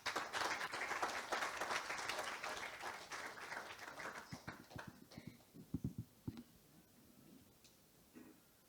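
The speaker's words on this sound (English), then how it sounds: "A warm round of applause." Audience applause at a fireside-chat session of a business forum in Singapore, a full crowd clapping loudly at first, then thinning into scattered claps and a few sharp knocks before dying away.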